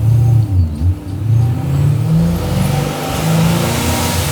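An 850 hp Pro Charged 1969 Camaro restomod running 16 pounds of boost revs nearby. Its engine note is a loud, deep rumble that rises and falls through several throttle blips, with no talking.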